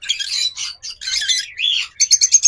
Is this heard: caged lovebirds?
yes